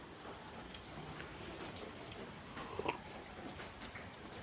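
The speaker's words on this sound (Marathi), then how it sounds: "हे बघा, पावसाचं पाणी." Monsoon rain falls outside on a quiet morning. It is a faint, steady patter with scattered drips, with no talking.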